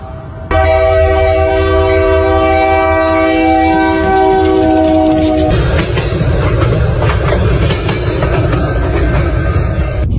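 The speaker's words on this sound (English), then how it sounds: "Here comes the train." Train rolling over quarters, a nickel, a penny and a dime laid on the tracks, with a loud sustained horn blast giving way to a roaring, rattling rush of wheels passing close by.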